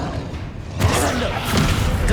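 A Descendo slam-down spell cast in Hogwarts Legacy, heard as a sudden loud whoosh and heavy crash that is followed by continuous rumbling impact noise.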